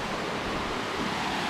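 The Pallagutta waterfall pours steadily, a dense, loud, continuous rush of falling water that stays unchanged for the whole short stretch.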